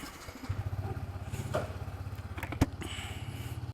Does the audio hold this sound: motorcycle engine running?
yes